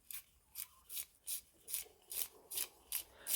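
A hand sharpener shaves a cedar-wood Kita-Boshi 2B pencil in eight or nine evenly spaced rasping turns, each a short scratchy burst, close and fairly quiet with no talk.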